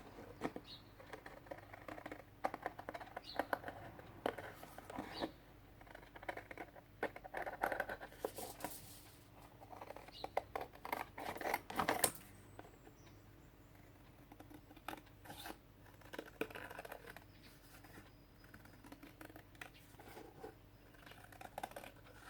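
Scissors cutting a paper moon shape for an art journal page, quiet intermittent snips and paper rustles close by, with irregular pauses and a slightly louder crinkle midway.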